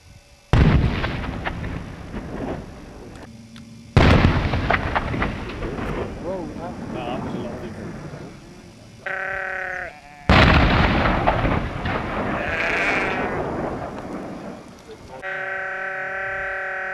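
Artillery fires in heavy booming blasts, three big reports each trailing a long rumbling decay, with voices shouting in between and over them.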